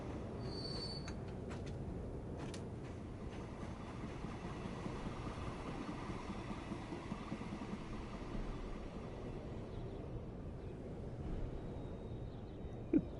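A train runs in a video game while delivering wheat, with a steady rumble of rolling wheels and a faint high squeal over it, continuous and moderately loud.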